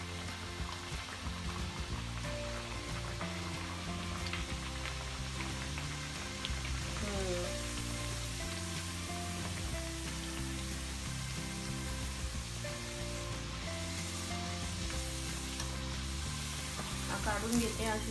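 Kombdi vade dough fries in hot oil with a continuous, fairly quiet crackling sizzle that stays even from start to finish.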